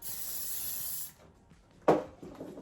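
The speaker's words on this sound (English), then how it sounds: "Adding in more hairspray." Hairspray hisses onto styled hair in a steady, close spray for about a second. A short knock of the can or a tool follows after a quiet pause.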